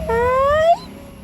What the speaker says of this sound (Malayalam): പൂച്ചയുടെ കുഞ്ഞാ.